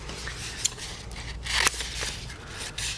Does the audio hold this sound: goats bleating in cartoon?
no